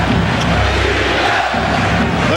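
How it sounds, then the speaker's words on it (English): A capacity crowd at Madison Square Garden chants for defense during a 1993 NBA playoff game between the Knicks and Bulls, a loud, steady roar of massed voices filling the whole clip without a break. "The chant of defense from this capacity crowd of the Garden"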